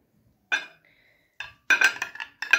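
Spoon clinking against a bowl while mixing sour cream with mumijo for a face mask, a few sharp close taps then a quick cluster of clinks.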